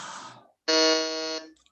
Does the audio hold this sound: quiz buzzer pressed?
yes